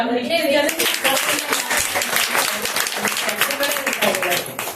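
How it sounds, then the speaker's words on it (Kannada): An audience claps together at a Kannada talk and discussion gathering, a dense, steady wash of hand claps over about five seconds, with voices talking through it. "ಹೃದಯ ವೈಶಾಲ್ಯತೆಗೆ ಒಂದು ಚಪ್ಪಾಳೆ."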